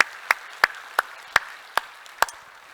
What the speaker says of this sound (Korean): 우리 한번 박수로 격려해 주겠습니다.